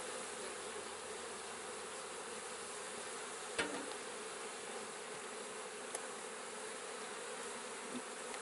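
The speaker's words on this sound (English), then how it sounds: "I'm going to smoke the bees off the top bar here" Honey bees buzz steadily and densely at the top bar of a hive during a queen-rearing inspection, a continuous close drone with a few brief clicks and knocks and no voices.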